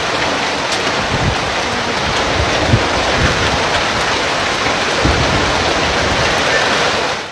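Heavy rain pours during a thunderstorm in southern Alberta, a dense, steady hiss of water with occasional low rumbles, loud and continuous before easing off at the very end.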